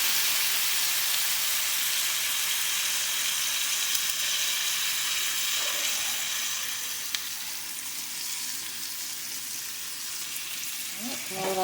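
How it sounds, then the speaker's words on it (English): Tomato basil garlic pasta sauce with smoked sausage and ground beef sizzling and bubbling in a pan as it is stirred, a continuous loud frying hiss with occasional scraping of the spoon. "we're going to go ahead and get that stirred into the pan"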